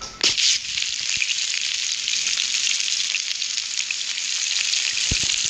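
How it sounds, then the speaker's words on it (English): Food frying in a pan gives a loud, continuous close sizzle that starts with a sharp burst and holds steady for several seconds. "Fry it."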